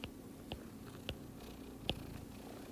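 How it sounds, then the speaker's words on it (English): A cat gives a few faint, short meows in a quiet room, spaced irregularly over a couple of seconds. "I don't know if you can hear my kitty meowing in the background"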